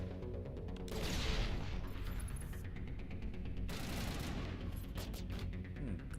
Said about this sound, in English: let's intentionally throw a grenade.